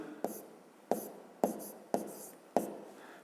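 A pen writes a math expression by hand, giving five sharp, close taps and short scratching strokes spaced roughly half a second apart.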